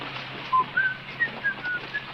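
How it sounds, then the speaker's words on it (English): A person whistles a short, thin melody of a few brief notes, faint and spaced out over low background noise in a Western drama scene. "If you have to whistle, keep on the tune."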